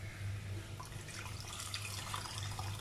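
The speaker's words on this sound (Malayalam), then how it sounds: "അത്രയും നമ്മൾ വെള്ളം ഒഴിക്കുന്നു" Tamarind water poured into rasam while cooking, a steady soft splashing trickle of liquid lasting throughout, close and fairly quiet with a low hum behind it.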